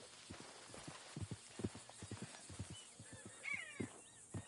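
Horse in the video game Red Dead Redemption 2, hooves clip-clopping in a steady trotting rhythm close by, followed by a brief neigh toward the end over faint ambient background.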